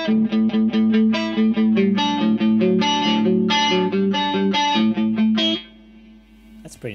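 Electric guitar run through a PastFX Elastic Mattress flanger pedal plays a rhythmic picked riff with a swirling, metallic, chorus-like shimmer, loud and close, before dropping to a low hum.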